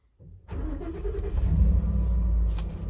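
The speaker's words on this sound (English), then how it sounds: "I think I'm gonna go ahead and fire the truck up" A truck engine is started at a campsite before dawn, with a brief cranking whir followed by the engine catching and settling into a loud, steady low idle close by.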